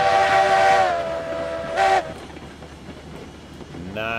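A steam locomotive in the video game RailRoads Online gives a long, loud, harmonic whistle blast followed by a shorter toot, over a low steady rolling rumble on the rails, with another whistle starting at the end.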